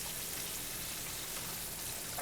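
Center cut pork chops frying in a skillet, a steady close sizzle and crackle of hot fat with no voices.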